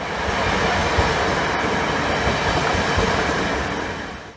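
A high-speed train on a pre-service test run in Sivas rushes past close by, a loud, continuous roar with a rapid clatter of wheels that holds steady and then fades slightly at the end.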